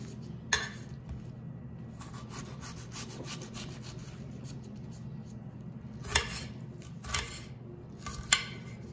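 Knife chopping onion on a cutting board for a Lebanese zucchini pulp and egg dish, faint soft scraping cuts with a few sharper taps on the board, close by and quiet.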